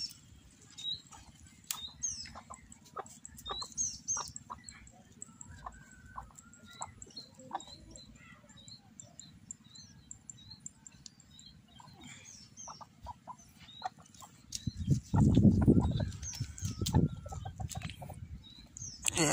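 Free-range chickens cluck intermittently at a distance in a village on Timor, with scattered calls throughout and a louder flurry of clucking near the end.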